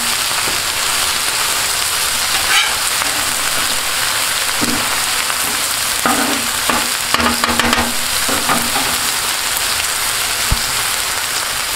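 Cheesesteak meat sizzles steadily on a Blackstone flat-top griddle, a loud continuous frying hiss broken by occasional scraping and metallic clinks of a spatula, with no voices.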